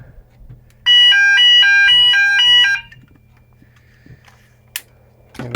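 A Gent Xenex fire alarm sounder blares a loud, steady electronic pulsing tone for about two seconds during a system test, then cuts off, leaving faint room hum and a few small clicks.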